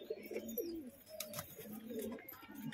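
Giribaz pigeons coo softly in short, repeated low rolling calls, close by and fairly quiet, with faint background noise.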